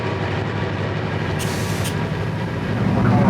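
A long freight train hauling taconite ore cars, each holding over 70 tons, rumbles past with a loud, continuous low roar, a brief hiss rising midway and the rumble swelling toward the end.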